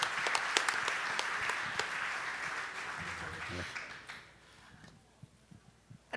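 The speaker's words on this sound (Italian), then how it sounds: "il governatore eletto Luca Gallo, a cui va un grandissimo applauso" Crowd applause in a resort hall during a district assembly honouring the newly elected district governor, dense sustained clapping that fades out toward the end, with a few scattered claps after.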